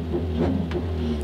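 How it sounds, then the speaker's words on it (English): Honda car with a hefty exhaust leak at the downpipe on a stock exhaust, a low idling engine rumble with a brief rev swell, close and steady. "I have a pretty hefty exhaust leak at my downpipe."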